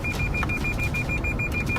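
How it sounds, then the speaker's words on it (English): A Lexus at a highway intersection gives a steady series of quick electronic sensor beeps over a continuous low car cabin rumble, close and fairly loud, with no talk. "Whenever they find themselves at this particular highway intersection, their Lexus starts beeping out of control."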